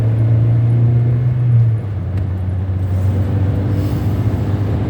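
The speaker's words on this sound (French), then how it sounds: "Oh, en fait, ça va, elle marche bien la voiture." A car drives along a road, giving a steady low engine and road rumble heard from inside the vehicle, with the tone dropping slightly partway through.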